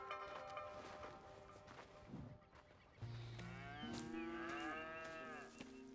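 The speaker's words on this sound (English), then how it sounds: "Here's the cows." Cattle mooing in the video game Red Dead Redemption 2, several long drawn-out lowing calls that rise and fall from about the three-second mark, close and loud over a steady ambient farm background.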